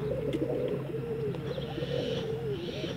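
Low, continuous cooing of China and Teddy pigeons close by, soft warbling calls rising and falling with no talking.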